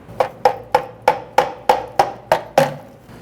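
A metal horseshoe clip on a 1994-2004 Jeep Grand Cherokee rear center brake hose being tapped loose, nine evenly spaced sharp metallic knocks about a third of a second apart, close and clear.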